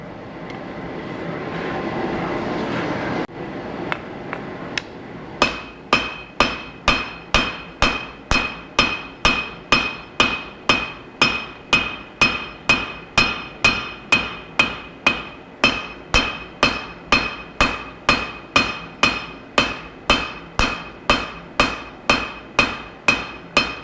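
A hammer pounds a wootz steel knife blade on an anvil in a long, even run of sharp ringing blows, roughly two per second, loud and close after a few seconds of rushing noise, with no talk.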